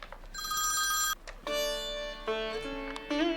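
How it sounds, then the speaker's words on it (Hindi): A telephone rings on its own with bright, repeated electronic tones in a home setting on Independence Day, sounding close and clear with short gaps between bursts. "किसका फोन है?"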